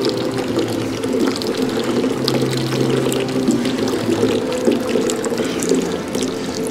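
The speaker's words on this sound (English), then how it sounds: "Oh, look at some of the springs here, guys." Hot thermal mineral spring water pours and splashes steadily at a spring in Karlovy Vary, Czech Republic, a loud, close, continuous rushing flow with a faint low hum underneath.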